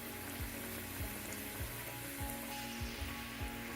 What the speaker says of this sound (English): I'm gonna fry them until they're about golden brown